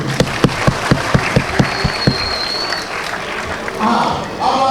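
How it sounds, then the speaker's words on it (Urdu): A short burst of clapping at a children's prize event at a press club in Peshawar: roughly ten sharp, evenly spaced claps over about two seconds, then quieter room noise with voices talking. "تالی ہو جائے اس موومنٹ کی"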